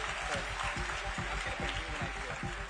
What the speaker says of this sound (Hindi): जरा मुकुल के लिए जोरदार तालियां बजाइए